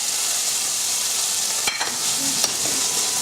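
Chicken browning in a hot pan with carrots and onions added, giving a steady, close, dense sizzle throughout, broken by a couple of brief utensil clicks.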